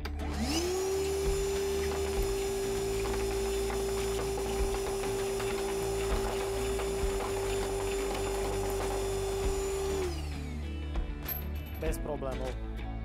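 A Ryobi R18PV-0 cordless vacuum cleaner whines steadily while sucking up heavier objects, with rattling clicks of debris, then powers down, leaving scattered clatter and handling noises.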